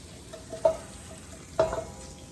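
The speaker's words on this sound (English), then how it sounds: "Now we can take all of this mixture and scrape it in." A spoon scrapes a chili mixture of toasted ingredients into a Dutch oven in two distinct, fairly quiet scraping strokes over a faint background hiss.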